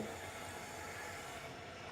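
A steady, continuous rumble of a moving passenger train from Bathinda toward Sri Ganganagar through rural Punjab, broadband rolling noise with no distinct clacks, heard from inside or close by.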